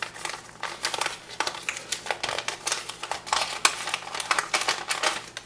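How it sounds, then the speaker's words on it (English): Paper mail envelopes are torn open by hand, close crinkling and ripping bursts in an irregular run of short rustles lasting several seconds, with no voices. "let me just tear into these envelopes and we're going to see who exactly we got"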